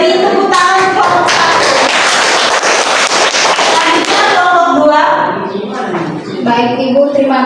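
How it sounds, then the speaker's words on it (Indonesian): A classroom of students claps for a presenting group, loud and dense at first, then thinning out as voices rise over the last few seconds. "Beri tepuk tangan kelompok 1."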